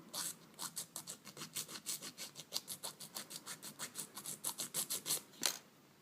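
A nail file rubs against press-on nails in a fast, even series of about twenty-five soft rasping strokes, close and fairly quiet, with no one speaking.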